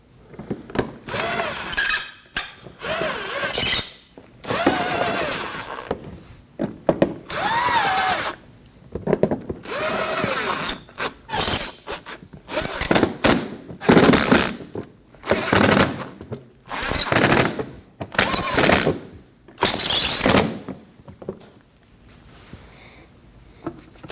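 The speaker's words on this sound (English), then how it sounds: "We can install the screws into the front side of the fender." A power drill drives screws into the front of a plastic fender liner on a 2015-2024 Ford Edge, in about a dozen loud whirring bursts separated by brief pauses, with no talking.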